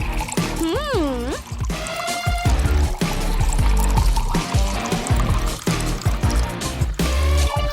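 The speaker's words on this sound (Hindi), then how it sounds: "अब इस पर फैंटा डालेंगे।" Fanta pours into a glass over fruit and berries, fizzing and gurgling with liquid trickles and clinks up close, mixed with lively talk and music.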